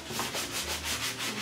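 A wooden dresser is being sanded in a garage, a steady rhythmic rasping with regular back-and-forth strokes at moderate volume, heard alone.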